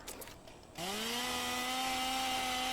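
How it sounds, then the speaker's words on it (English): The Ripper chainsaw weapon from a Fallout 4 mod starts up with a rising whir, then settles into a loud, steady, buzzing drone that holds to the end. "It's making more of a chainsaw sound."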